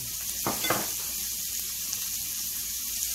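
Chopped onion drops into hot oil in a frying pan while green beans are being fried, giving a brief burst of sizzle followed by a steady, moderately loud frying hiss with no talking.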